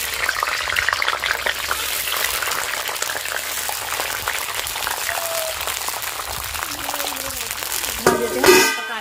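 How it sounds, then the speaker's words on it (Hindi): Green peas frying in a small amount of oil in a kadai, with a steady, close crackling sizzle throughout and a brief louder burst of spattering near the end. "मटर को भी हम भून लेते हैं, तेल मैंने थोड़ा कम कर दिया है,"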